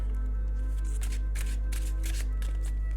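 Soft riffling bursts of cards being shuffled, repeating several times over a steady low hum, close and fairly quiet.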